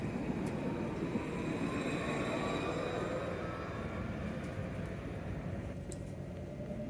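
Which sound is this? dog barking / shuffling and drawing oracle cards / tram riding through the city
tram riding through the city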